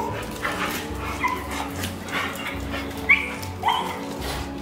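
An American Bully dog whimpers and yips, then gives a couple of short barks near the end, fairly close, over a steady low hum and faint background noise.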